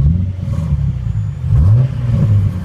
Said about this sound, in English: Gonna rev it out because it's got fat Borla exhaust, even though it's V6